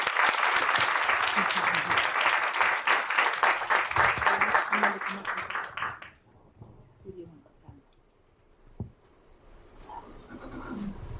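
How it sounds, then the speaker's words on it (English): Audience applause at a school board meeting for a student receiving an award, a dense burst of clapping from a seated crowd that lasts about six seconds and then stops, leaving quiet room noise and brief murmurs. "Let's give a big round of applause to Elliot"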